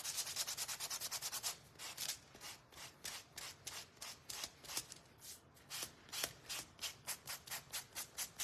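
Small wooden dots for a ladybug craft are hand-sanded in quick, rhythmic back-and-forth rasping strokes, close and fairly quiet, with brief pauses between bursts and no talking.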